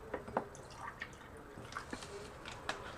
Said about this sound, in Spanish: voy a poner en un vasito un poquito de agua